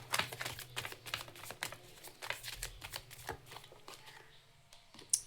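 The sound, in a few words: tarot cards being gathered and handled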